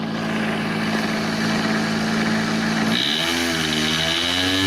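A model aircraft engine on an RC flying field runs loud and steady, then its pitch shifts abruptly partway through as the throttle changes, with a continuous buzzing drone and no talk.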